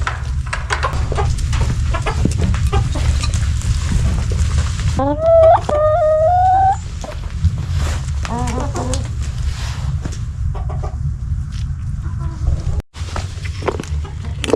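Chickens cluck and squawk close by over a low rumbling background, with a rising squawk mid-way and footsteps or rustling; a person speaks briefly.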